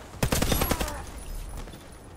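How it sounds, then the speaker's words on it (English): Rapid automatic gunfire in the online shooter Warface, a loud close burst of fast shots in the first second, then trailing echo and faint background noise. "Rapid fire."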